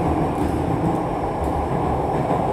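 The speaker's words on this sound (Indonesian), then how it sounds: "kita lanjut perjalanan kereta menuju stasiun berikutnya, yaitu Blok A." A Jakarta MRT metro train travels at speed with a steady, dense rumble and faint rhythmic clatter, continuous and close, with no voices.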